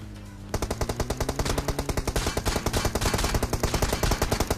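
Rapid automatic gunfire from a video game, a full magazine emptied onto a vehicle in Pochinki, bursts in suddenly and keeps going in a fast, relentless rhythm over a thumping backdrop.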